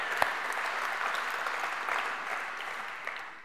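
A general assembly audience applauds the team, a steady, moderately distant patter of many clapping hands that slowly fades toward the end.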